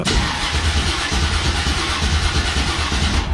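A cold stock car engine on a wagon cranks and runs, with a loud, rough mechanical drone close by throughout.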